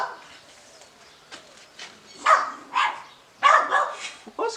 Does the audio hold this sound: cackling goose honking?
no